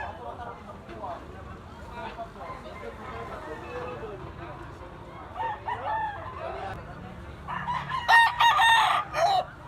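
A rooster crows amid the background chatter of a gamefowl sale, with someone talking throughout and the loudest crowing and clucking bursts near the end.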